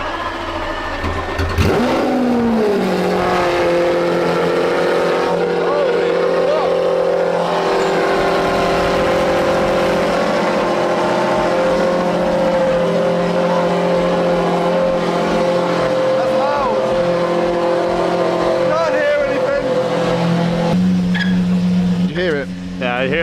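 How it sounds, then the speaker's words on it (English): A Lamborghini engine fires up from cold, a loud sustained rumble with a steady drone and some revving, continuing for about twenty seconds with a shift in tone near the end; people talk faintly beneath it. "we're going to get the Lamborghini, and Mark insisted that we hear the cold start"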